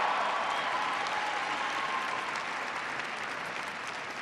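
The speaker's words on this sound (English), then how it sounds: "President Custra, give him a big round of applause." An audience at Boise State University gives the university president sustained, even applause, a dense wash of clapping that carries on at steady volume with no talk over it.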